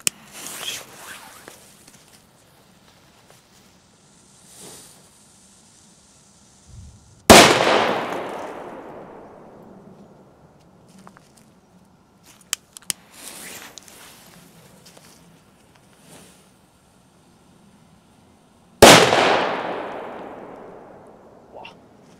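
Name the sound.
Color Bang firecrackers exploding, P1 class, 1.5 gram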